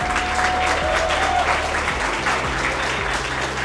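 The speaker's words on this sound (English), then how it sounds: "please, let's give them a round of applause" Sustained audience applause at a construction industry event fills the room, steady and dense throughout with no talk over it.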